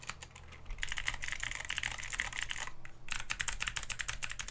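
Fingers type quickly on an AJAZZ AK33 RGB keyboard with thin ABS keycaps and slightly hollow larger keys, making a dense run of light, clacky keystrokes close up, with a brief pause partway through and no speech.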